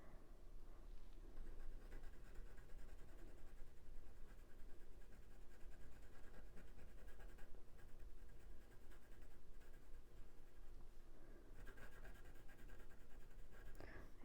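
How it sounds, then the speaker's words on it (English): A pencil scratches faintly across paper while a robin drawing is shaded, quiet continuous rasping strokes with small pauses, close but soft, and no talking. "It's like a long scratch across the paper."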